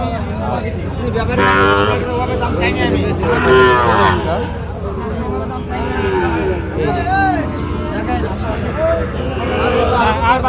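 Cattle at a busy livestock market in Ambari, Dinajpur, with several loud, drawn-out moos in succession close by over a steady crowd murmur.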